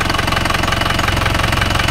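An overhauled Isuzu Panther Turbo 4JA1 diesel engine idles steadily up close, giving a loud, even, rapid knocking clatter that holds constant throughout.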